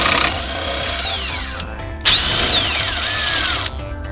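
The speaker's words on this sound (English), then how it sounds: "I'm just gonna use the drill to yank that off the rest of the way." Cordless power drill spins a fastener off a sway bar U-bracket on a Mazda Miata, two whining bursts that rise then sag in pitch as the motor loads, separated by a brief pause, close and loud.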